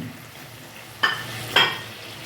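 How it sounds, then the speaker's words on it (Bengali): Potatoes tossed into hot oil with spices in a pan, giving two short bursts of sizzling and stirring about half a second apart over a low, steady background hiss. "আমি মশলার সাথে এভাবে ফ্রাই করে নেব এখন দিয়ে দেবো আলুগুলো"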